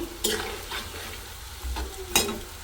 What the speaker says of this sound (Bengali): সুন্দর করে পেঁয়াজিগুলো ভেজে নিতেছি